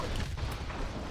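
A C4 charge detonates in the war video game Modern Warfare Remastered, a dense, loud, roaring blast of noise and low rumble that fills the whole short moment.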